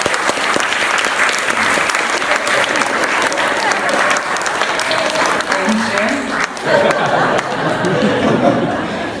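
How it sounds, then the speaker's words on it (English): An audience at a book launch applauds loudly and continuously, with some scattered chatter and chuckling mixed into the clapping. "Give a big round of applause."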